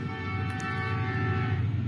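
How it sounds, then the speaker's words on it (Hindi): A passenger train rolls past a garden in a steady, continuous rumble with a sustained tonal hum, fairly close and even in loudness throughout, with no talking. "रेलगाड़ी जा रही है, आपको दिखाऊं जूम करके।"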